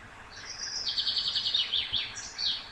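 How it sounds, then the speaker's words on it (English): Library bird song effect: a bright, rapid series of chirps and trills, fairly close and clear, continuing through the whole stretch with no voices. "Here you can find a lot of bird sounds, nice bird sounds."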